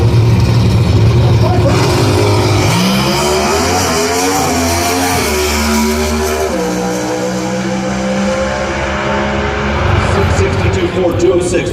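A Funny Car drag racer roars down the strip at the U.S. Nationals, a loud, harsh engine blast with shifting pitch that fades and then returns, while a commentator talks over it.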